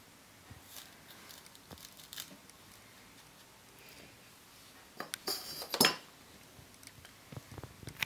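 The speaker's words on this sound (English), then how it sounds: "I'll go ahead and cut out my ornament." A salt dough Christmas ornament is cut out with a cutter, giving faint, close scraping and pressing noises, a few soft taps, and a brief louder crinkling scrape near the end.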